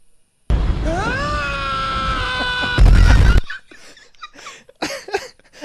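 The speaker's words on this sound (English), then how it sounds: "Are you saying that we need a male scream?" A man's loud, strained scream with a rising pitch holds for about three seconds, swells into a harsher burst near the end, then drops to quieter murmuring talk.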